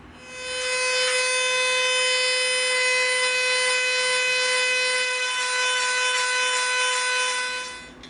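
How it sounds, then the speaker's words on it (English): A Dremel rotary tool whines at high, steady speed while tapering a wooden dowel, a close, continuous tonal buzz that spins up, holds for several seconds and winds down. "we're going to get our Dremel out, and we're going to taper this wood dowel to a narrower end"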